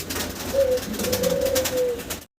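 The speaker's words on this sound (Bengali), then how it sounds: "সাদা এক পেয়ার বোম্বাই কবুতর দেখাচ্ছি আপনাদেরকে, বিশাল সাইজের" A pair of large white Bombay pigeons coo in a few short throaty bursts, close by over steady background hum.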